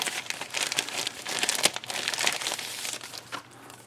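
Clear plastic perspex pieces from a 1:24 Fujimi garage kit handled up close, giving a series of crisp, irregular crinkles and crackles that swell and fade over a few seconds.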